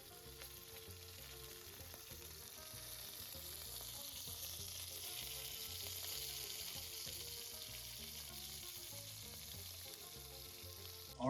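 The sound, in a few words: venison steak searing in a hot pan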